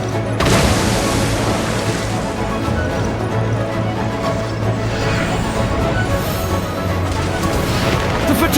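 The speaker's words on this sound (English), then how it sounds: "That is Osial's divine power." Osial's divine power attack in the Genshin Impact boss fight against Childe: a loud, continuous roaring crash like surging water and rumbling impacts that fills the whole stretch, with no speech.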